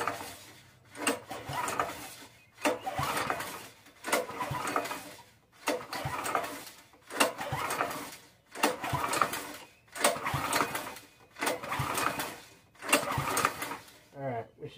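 A yard kart engine is pulled over by its recoil starter about nine times in a steady rhythm, each pull a faint rasping whir followed by a short gap.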